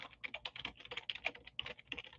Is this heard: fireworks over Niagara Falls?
no